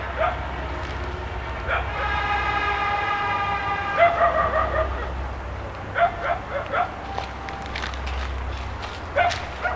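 A pack of dogs barks and yips repeatedly outdoors at night, several overlapping voices near and far, with a long wailing tone like a siren or howl and people talking faintly underneath.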